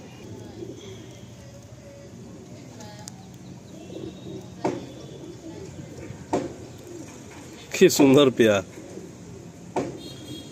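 Pet pigeons in a loft coo softly in low repeated phrases, with sharp wing-flaps and a brief flurry of flapping midway. Someone speaks over the birds at times.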